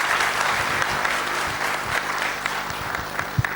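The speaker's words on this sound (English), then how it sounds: "Big round of applause for sister." Audience applause following a talk, a dense steady patter of many hands clapping at close range with scattered louder claps, filling the room without talk.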